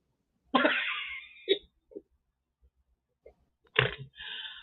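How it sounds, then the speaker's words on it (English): A person snorts while laughing, with two strong nasal bursts separated by short quieter snorts and breaths, close and loud. "You just snorted."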